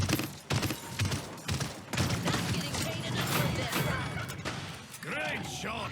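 Rapid bursts of gunfire ring out in the shooter game Apex Legends, mixed with loud impact sounds and a voice talking over the action.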